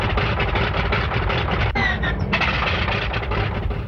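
An aircraft engine on an aircraft carrier deck turns over and roars steadily. The sound is loud and continuous, with a rhythmic mechanical pulse and a brief change partway through.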